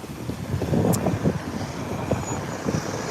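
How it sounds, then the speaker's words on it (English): On a sunny, windy day outdoors, gusts buffet the microphone in a low, uneven rumble with brief louder swells. "So, windy day."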